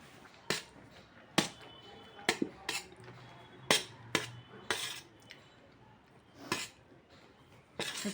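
Small metal spoons drop into a bucket of small kitchen utensils, giving a series of bright, sharp clinks and clatters at irregular intervals over several seconds, close by and fairly quiet.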